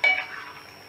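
A single short scrape and clink of a utensil stirring Uzbek plov rice in a hot kazan with the gas off, a quick sharp sound that fades into a soft rustle.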